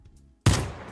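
A single loud shot from the OTS gun in a Minecraft gun mod cracks out after a near-silent pause, then trails off in a short, noisy decay.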